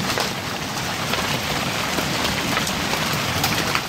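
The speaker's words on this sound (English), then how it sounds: "it's still hailing. That was so loud." Dense, loud pattering of hail drumming on a surface, continuous and close, with no voices.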